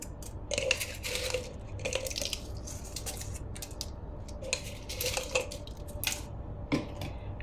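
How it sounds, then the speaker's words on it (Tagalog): Bangus milkfish pieces are set one by one into a pan for Spanish-style sardines with olive oil, making close clinks and soft wet taps against metal with scattered clatter and no talk. "Tapos ilagay na natin ang ating isda."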